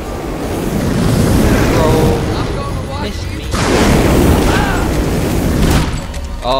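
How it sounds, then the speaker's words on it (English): Explosion from a fire explosive thrown at a gang in the Dead Rising 3 video game, two loud booming rumbles in quick succession, dense and noisy, rolling on for several seconds each. "Fire explosive against the gang."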